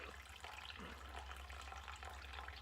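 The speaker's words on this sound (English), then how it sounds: "hold it up and let the water drain" Hot wort drains out of a lifted brew bag into the pot, a faint steady trickle and splash of liquid held alone for a few seconds.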